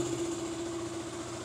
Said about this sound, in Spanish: Entonces, tenemos prendida la moto